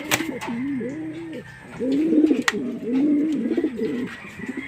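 Racing pigeons coo close by in repeated soft, rolling calls, several overlapping, over faint background noise.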